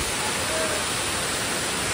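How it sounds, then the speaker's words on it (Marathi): Dudhdhara waterfall near Bhimashankar on the Karvati Ghat trek pours into a valley, a dense, continuous roar of falling water that stays loud and even throughout with no pauses. "तर काय तिथं दूध धरा धबधबा."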